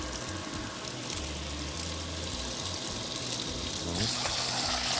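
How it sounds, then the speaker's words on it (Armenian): Rice being washed in water to rinse out the starch, a continuous splashing and running-water wash close by, steady and moderately quiet. "բրինձը հարկավոր է լավ լվանալ, որպեսզի միջի օսլան կարողանա կանջատվել բրինձից։"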